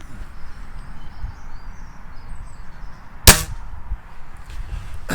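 A single sharp, close report from a Weihrauch HW57 under-lever spring piston air rifle, with a brief metallic ring fading after it over quiet room background.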